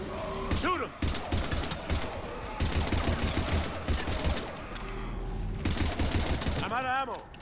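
Rapid automatic gunfire in the sci-fi shooter Mass Effect 3, dense bursts of shots with thuds and crashes, loud and close, broken by short pauses and an electronic warble near the end, with speech mixed in.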